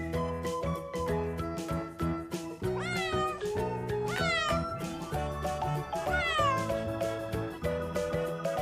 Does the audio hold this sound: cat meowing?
yes